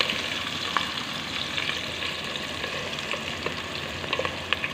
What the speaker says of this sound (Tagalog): Luto muna tayo ng chicken ulit.